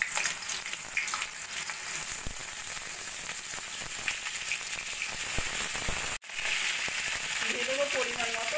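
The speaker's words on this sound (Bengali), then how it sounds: "সেই জন্য প্রথমে কড়াইতে তেল গরম করে দিয়ে দেবো কেটে রাখা পটলগুলো।" Cut pointed gourd pieces fry in hot oil in a wok, giving a loud, dense, continuous sizzle with a brief cut near the end before the frying resumes.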